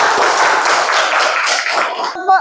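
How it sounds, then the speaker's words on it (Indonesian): A class of students clapping their hands in applause, a dense, loud, continuous patter of many hands that stops abruptly near the end, followed by a couple of faint taps. "Tepuk tangan untuk kalian semua"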